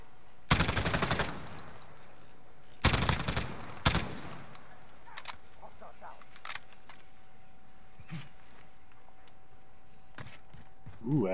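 Gunfire in the Call of Duty Warzone video game, with a few sharp bursts of automatic shots early on, then scattered fainter distant pops while players talk.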